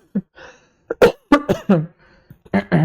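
A man with a sore throat coughs several times in quick, rough bursts, close up, with a bit of throat clearing mixed in.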